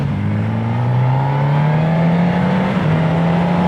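A Corvette sports car passing on a road, its engine droning as a steady, loud whine that slowly rises in pitch and holds, heard up close without speech.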